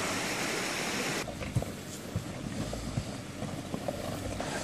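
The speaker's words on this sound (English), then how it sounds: "We crossed the river now" A 2015 Jeep Cherokee Trailhawk fords a river, a broad rush of water and engine noise giving way to a quieter wash punctuated by sharp splashes and knocks from the vehicle.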